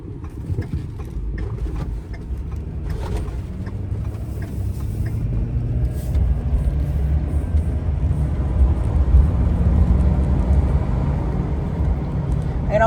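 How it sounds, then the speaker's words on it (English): A 2011 Ford F250 Lariat pickup with a 6.7 Powerstroke diesel engine drives along a neighbourhood street, its steady low engine rumble and road noise building gradually, heard from inside the cab. "we'll just do a quick drive on it"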